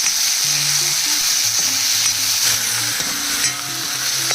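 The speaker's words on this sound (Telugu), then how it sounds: "ఈ టమాటాతో పాటు ఈ చింతపండు కూడా చక్కగా నూనెలో ఉడుగుతుంది" Tomatoes and tamarind fry in oil in a kadai, giving a steady close sizzle with stirring clatter and scraping throughout, no voices.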